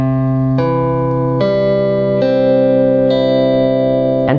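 A distorted electric guitar chord played one string at a time, five notes added in turn and sustaining together, loud and close with no talking.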